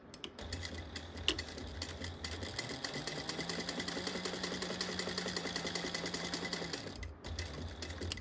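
Sewing machine stitching a bag opening closed through cardboard or Peltex stiffener, a steady rapid mechanical whir with fine ticking needle strokes running continuously for several seconds, close and alone.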